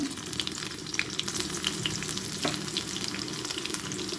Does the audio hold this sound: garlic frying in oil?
yes